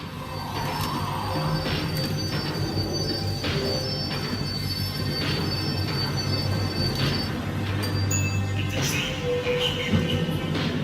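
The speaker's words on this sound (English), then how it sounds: "The tram was slowing down, and I'd only just gotten on board." A tram in the video game Max Payne 3 slows down, its wheels squealing on the rails over a steady, loud rumble that continues throughout, with bright metallic screeches rising near the end.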